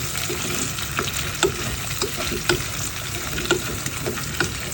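Potatoes frying in a pan make a steady close sizzle with scattered crackles and a few louder pops and stirring scrapes. No one speaks.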